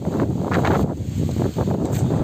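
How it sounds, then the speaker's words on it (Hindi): Strong gusting wind sweeps through an outdoor park, buffeting the microphone in loud, continuous rushes with rustling surges throughout, no voices present. "बहुत तेज हवा चल रही है"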